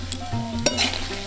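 Vegetable curry with peanuts and fried spice mix is stirred in a hot pan, a short burst of scraping and clinking over a quiet sizzle, loud and close.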